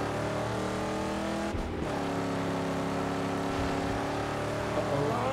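A car drives in the video game Mad Max, a loud, steady engine drone with a continuous rough rumble, briefly dipping around a gear change before resuming at a constant pitch.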